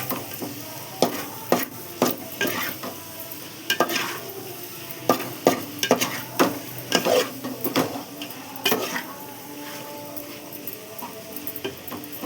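A spatula scrapes and clacks against a pan in irregular strokes as chicken biryani ingredients are stir-fried over a soft, steady sizzle.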